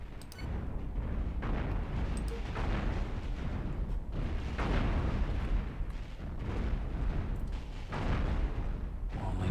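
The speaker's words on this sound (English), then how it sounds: "Soon the reactor will blow." Game explosions rumble as a ship's reactor blows in the space-combat game Cosmoteer, with dense, continuous booming blasts and crackling bursts layered throughout, loud and with no talk.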